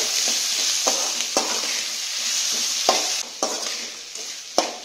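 Tomatoes and onions sautéing with salt in a pan for spicy kara chutney, a bright, loud, continuous sizzle broken by several sharp scraping stirs of a spoon, with no voices.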